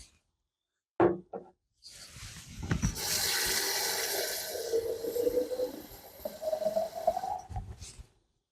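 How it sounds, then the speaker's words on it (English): Water runs from a tap into a pitcher being filled about half full, a steady splashing stream whose pitch rises as the vessel fills, close by, starting after a clunk and ending with a short handling noise. "you fill about half full with water"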